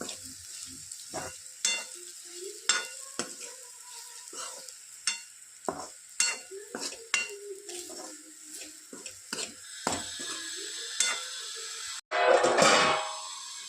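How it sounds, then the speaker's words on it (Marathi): Bitter gourd stir-fry with crushed peanut powder stirred in a pan, repeated spoon scrapes and clinks against the metal over a soft sizzle, ending in a louder burst of frying. "त्याला छान मिक्स करून घेऊ"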